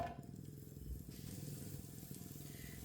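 Chopped onion, cut into long pieces, frying in oil in a pan gives a faint, steady sizzle with a light crackle throughout and no voices.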